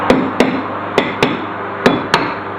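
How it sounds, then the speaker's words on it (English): Hammer whacks knocking a rear brake rotor off the hub of a 2001 Honda Civic LX: six sharp, loud metallic strikes in an uneven rhythm, close by, with no talking. "this rotor's been out before, so a good couple whacks should get it going"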